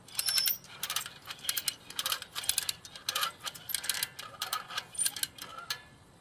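A ratchet wire fence tensioner cranks steel fence wire tight on a pulling rod: a close, steady series of crisp metallic clicks and clacks in quick irregular bursts, with no talking.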